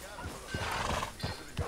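Horses on a farm in the video game Red Dead Redemption 2 give a loud, close neigh and whinny, with faint hoof clip-clops underneath.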